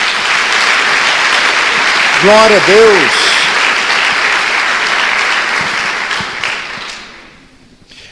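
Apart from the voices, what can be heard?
congregation applause in church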